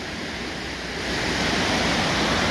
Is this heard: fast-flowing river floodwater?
yes